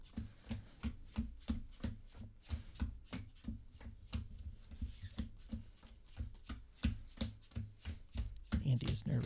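Rapid, rhythmic clacking of playing cards being pile shuffled, steady repeated taps close up, ending with a brief burst of sliding cards.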